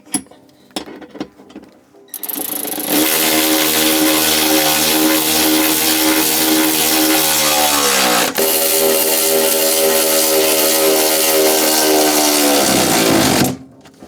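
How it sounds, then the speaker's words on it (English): A power tool bolts down the air suspension tank on a Lexus LS400 UCF20: a few faint knocks, then a loud, steady whirring run of about ten seconds with a brief dip midway, ending abruptly. "I'm just going to bolt down the tank."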